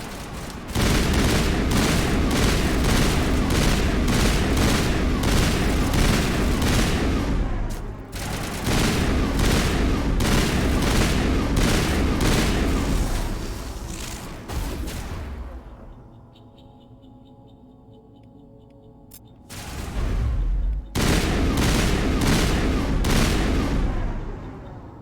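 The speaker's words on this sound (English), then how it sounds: "Oh, assault rifles." Sustained assault rifle fire in the Mass Effect video game, loud continuous bursts with a brief lull of quieter game ambience before heavy automatic shooting resumes.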